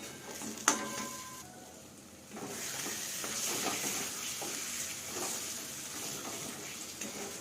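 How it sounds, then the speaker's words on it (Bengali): Masala with cashew paste and garlic cooking down in a pan with a splash of water, a steady soft sizzle and hiss after a sharp clink, continuing evenly without speech. "এরপর মশলাটা আরেকটুক্ষণ ধরে কষিয়ে নেব"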